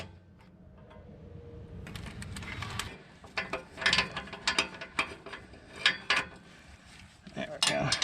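Ratchet wrench tightening a 17 mm nut with washer and lock washer on a Nissan Altima muffler, a run of rapid close clicking bursts after a quieter start.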